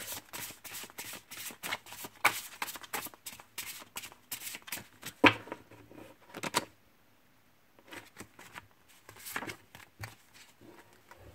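A deck of divination cards is shuffled by hand, giving quick, dry riffling and flapping bursts in uneven runs with a short pause partway, close and fairly quiet.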